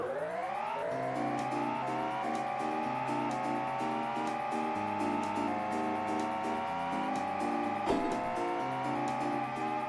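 Sega CD Jaguar XJ220 racing game start: steady droning engine tones rise in pitch as the cars pull away, layered over looping synth game music with a brief clatter near the end.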